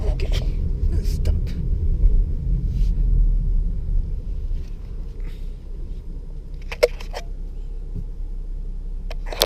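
A manual car is driven in second gear and then brought to a stop: a steady low engine and road rumble from inside the cabin that eases off toward the end, with a few faint clicks.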